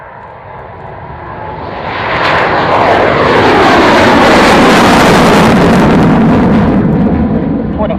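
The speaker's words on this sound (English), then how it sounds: "can you identify the aircraft that you can hear flying over the top?" A Saab Viggen jet roars overhead at an air show, swelling from a distant rumble into a loud, sustained blast with a sweeping pitch shift as it passes, then lingering.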